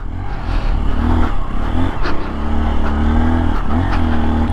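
A 2023 Honda XR150L dual sport motorcycle climbing uphill on a trail, its small single-cylinder engine revving loud and close with rising pitch sweeps as the rider shifts and rolls on the throttle.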